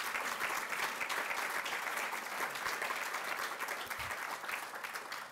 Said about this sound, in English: Peter, Tina, and Lily, give them another round of applause.